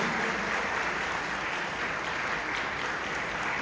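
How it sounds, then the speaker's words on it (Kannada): A large audience at a film song launch event in Hubballi gives dense, sustained applause, a continuous wash of clapping with no pauses. "ಮತ್ತೊಮ್ಮೆ ಒಂದು ಜೋರ ಚಪ್ಪಾಳೆ ಪ್ಲೀಸ್"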